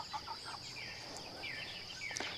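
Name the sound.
Silkie rooster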